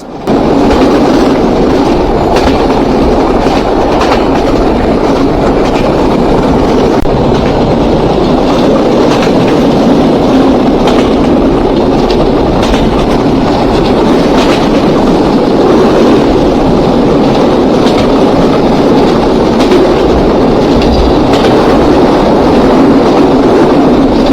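The Kapotakkho Express passenger train runs between Khulna and Rajshahi in Bangladesh, heard from on board as a loud, continuous rumble with rhythmic wheel clatter and no talking.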